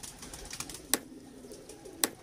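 Pigeons of the Lal Pari breed in a loft, with soft low cooing and two sharp wing-flap or clapping bursts close by against faint background noise.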